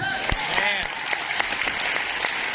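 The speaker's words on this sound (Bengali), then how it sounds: "তাই নিজেদের জন্য হাততালি দিন।" A seated audience at a Modicare business seminar applauds, dense continuous clapping up close, with a voice carrying over it.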